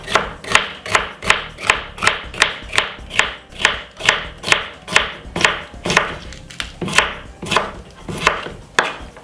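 Quick, evenly spaced knife chops on a cutting board as vegetables like red pepper and spring onion are cut up for a prawn salad, each sharp thunk close and crisp, repeating in a steady rhythm with no talking.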